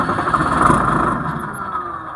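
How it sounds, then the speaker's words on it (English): A 1994 Ford F-700 flatbed truck with a fuel problem, its engine catching with a loud rumble and then dying away within a couple of seconds, close by. "The engine turns on and cuts off immediately."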